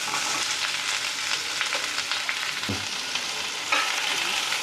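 Onion pieces fry in oil while being stirred for a baby potato masala curry, making a steady close sizzle with occasional scrapes and knocks of a spoon against the pan, and no one talks.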